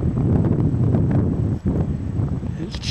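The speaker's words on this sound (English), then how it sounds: "Getting windy and a little chilly." Wind gusts roar across the microphone on a mountain pass in July, a steady rough rumble with a short lull, and nobody speaks.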